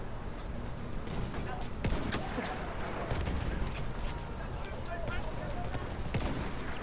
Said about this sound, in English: I'm getting shot at like a motherfucker